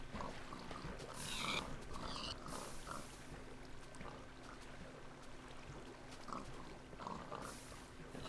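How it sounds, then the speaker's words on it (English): Pigs in Minecraft grunt and oink in a few short, scattered bursts against a steady, low background hum, moderately quiet and with no talking. "Move out of the way, pigs."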